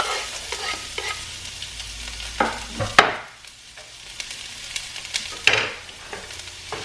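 Sliced onion frying in olive oil for a spaghetti sauce, with a steady sizzle and repeated scraping stir strokes in a pan. The stirring clatters at intervals, and no one speaks.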